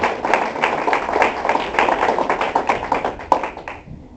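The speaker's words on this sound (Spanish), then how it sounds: "denle un aplauso al Señor" Church congregation clapping together during a sermon, a dense steady patter of many hands that builds briefly then tapers off near the end, close and fairly loud with no speech over it.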